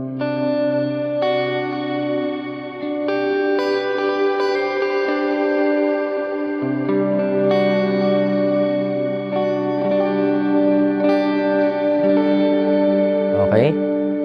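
Electric guitar played through an ampless effects rig for an ambient tone, a continuous wash of sustained notes and chords with echo and reverb, changing every second or two, close and full, ending in a brief pitch-bending swell.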